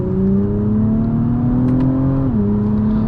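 A 2024 Acura TLX Type S in Sport Plus mode gives a loud, steady exhaust drone that rises slightly in pitch, then dips as a shift comes through, with no talking over it.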